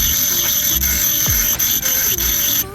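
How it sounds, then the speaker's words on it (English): Bench grinder shaving a metal door latch part for an R31 Nissan Skyline, a loud steady high-pitched whine with rasping grinding contact that pulses briefly as the part is pressed to the wheel, close and continuous. "I'm going to pop over to the bench grinder, shave a little more off"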